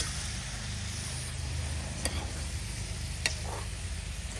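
Onions and curry chilli frying in a pan, with a steady low sizzle throughout and a few sharp clinks of a spoon stirring against the metal, no talking.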